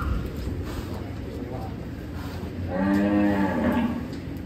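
Contest cattle at a farm in Indonesia, one large black animal giving a deep, loud moo near the end, with farm background noise and people talking earlier.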